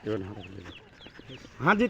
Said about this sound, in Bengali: দেখো মুরগি গেলা দেখো পোল্ট্রি মুরগির বাচ্চা